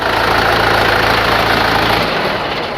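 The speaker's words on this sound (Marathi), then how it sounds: "लगेच ट्रॅक्टर मारला की ट्रॅक्टर चालू होत आहे" A loud second-hand tractor engine with 4,400 hours starts and rumbles steadily at close range, then its low throb drops away near the end.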